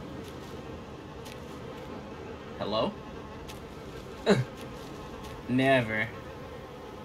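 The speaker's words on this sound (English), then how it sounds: "What's up with the buzzing?" Insects buzz steadily in the Little Nightmares 2 video game, a constant droning hum throughout, while a person briefly speaks over it a few times.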